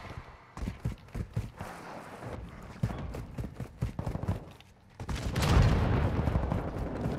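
An automated sentry gun in a Call of Duty match fires rapid, loud bursts of gunfire in a dense stuttering rhythm, then gives way to a heavier, rumbling wash of blasts and smoke near the end.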